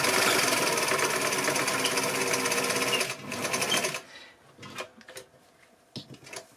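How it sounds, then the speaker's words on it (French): A domestic sewing machine runs a straight stitch, a loud, dense mechanical whir for about three seconds that slows and stops, followed by quieter clicks and handling noises. "Donc on tient ces fils et on démarre directement en couture droite."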